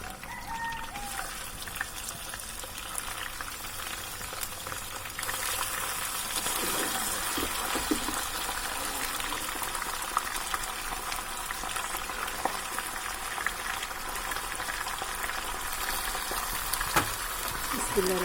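Unspiced chicken pieces fry in oil, a steady bubbling sizzle that grows louder after a few seconds and continues throughout, with faint sounds of handling.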